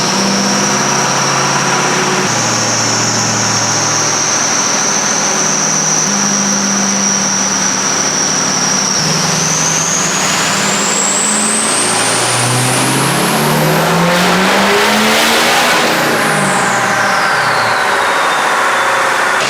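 A Ford 6.0L Powerstroke diesel pickup is held in direct gear on a chassis dyno and revs hard under load, a loud continuous engine roar with turbo whistle rising, climbing to a peak, then winding down.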